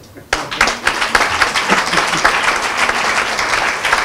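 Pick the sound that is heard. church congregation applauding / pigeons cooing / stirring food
church congregation applauding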